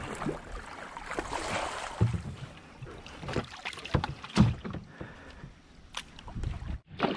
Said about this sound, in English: I've been paddling for a little while